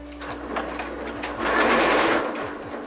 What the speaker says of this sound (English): As you can see, the machine stopped because the tension is so loose that it thinks that it broke the thread.